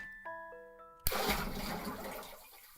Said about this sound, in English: Toilet flush? Toilet noise.